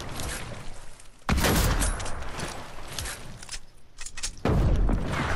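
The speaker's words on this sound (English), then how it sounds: "I don't see Jameson, but he's shooting at me." Gunfire from an opponent in a sniper one-shot free-for-all video game: loud, sharp bursts of shots break out twice over a steady background of game noise, with no talking.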